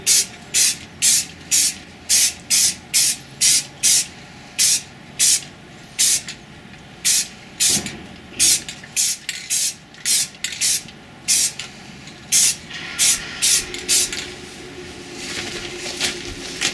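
Repeated short bursts of a spray can applying a base coat to an MK18 CQBR Block II rifle, about two dozen close, loud hisses in a steady rhythm, the bursts growing longer and more continuous toward the end.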